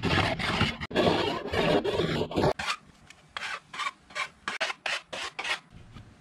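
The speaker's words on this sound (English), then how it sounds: "we're going to get a file and file it in" A hand file rasping along the edges of a wooden license plate sign, first long continuous strokes, then a series of shorter, evenly spaced scraping strokes, close and fairly loud.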